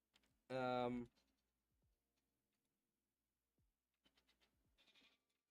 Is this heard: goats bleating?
yes